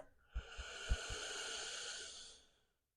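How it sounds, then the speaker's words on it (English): During a guided belly-breathing stretch routine, a slow, steady exhale through the mouth makes a soft, airy hiss that lasts about two seconds up close, preceded by a few faint low thumps. "slowly exhaling through the mouth"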